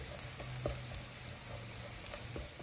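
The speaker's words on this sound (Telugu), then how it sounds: "నెయ్యి కొంచెం కాగాక ముందుగా ఈ గార్లిక్ పీసెస్ వేసి వేయించుకోవాలండి" Garlic pieces fry in ghee while dal is prepared, giving a faint, even sizzle with a few light taps and clicks from the pan.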